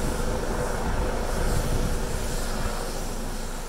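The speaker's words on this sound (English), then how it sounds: "it's good that they've sent the copter" Police helicopter flying overhead in London, a steady loud rotor and engine roar that fills the clip and fades slightly at the end, with no talking.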